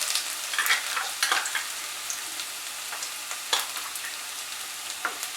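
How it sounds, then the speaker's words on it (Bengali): Chopped garlic and ginger fry over very low heat in oil with bay leaves for a Bengali masoor dal tadka, giving a constant close sizzle broken by occasional stirring clatters. "আদা রসুনটাকে ফ্রাই করে নেব 1 মিনিট"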